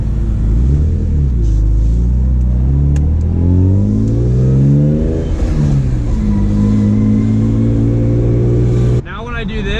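A BMW car with sloppy steering pulls away and accelerates through its gears, its engine rising and falling loudly and close inside the cabin, ending in a brief tire or road noise burst.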